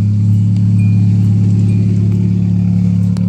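A car engine fitted with a custom exhaust revs and holds a loud, steady low droning rumble close by, with no talk over it.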